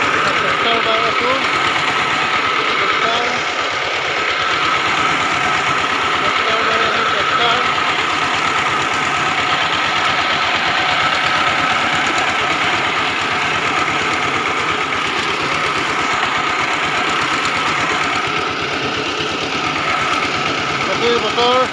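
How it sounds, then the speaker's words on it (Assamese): A tractor engine runs steadily while it ploughs a muddy field, a loud unbroken mid-pitched drone with a knocking rumble that carries on for the whole stretch, and a voice can be heard faintly under it. "ট্ৰেক্টৰ বাই খেতি কৰিবলৈ আৰম্ভ কৰিছোঁ"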